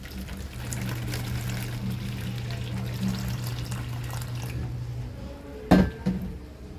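Hot water pours steadily for several seconds, a cleaning step while restoring an OMP WRC suede steering wheel, then stops; a short clatter and knock follow near the end.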